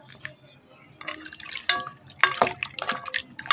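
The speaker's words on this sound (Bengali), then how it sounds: "এই গুঁড়ো টমেটোগুলো ধুয়ে নেবো" Tomatoes being rinsed in water in a kitchen, with splashing, dripping and sloshing that grows busier after a quiet start, close by, with faint voice in the background.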